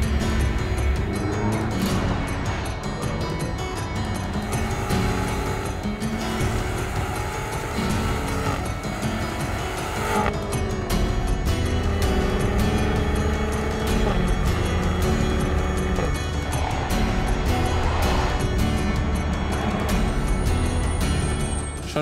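A BMW X5 M SUV is driven hard around a race track, its engine roaring loud and steady for over twenty seconds with shifting pitch as it accelerates and brakes through corners.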